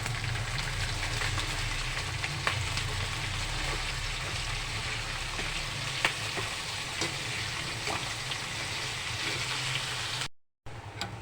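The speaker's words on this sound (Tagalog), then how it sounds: "Pwede na natin igisa ang ating giniling." Ground pork sautés in a pan with a dense, continuous sizzle and occasional stirring scrapes, close and steady, cut off briefly near the end.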